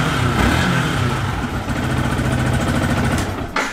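A Yamaha R125 motorcycle on its stock exhaust idles with a steady, buzzy, scooter-like drone close by, then a brief sharp change near the end.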